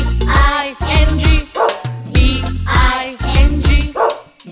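A dog barks repeatedly in time with the Bingo farmer-and-dog nursery rhyme, several loud, close barks falling in a steady rhythm over a bouncy musical backing with bass notes.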